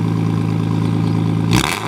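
A car engine idles with a deep, rumbling exhaust tone, then a sharp burst of revving hits near the end, loud and close.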